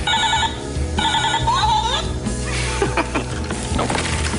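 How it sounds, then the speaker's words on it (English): A cell phone rings in a kitchen workshop, a repeating electronic ringtone pattern heard twice near the start, followed by clattering and background commotion. "Is that your cell phone?"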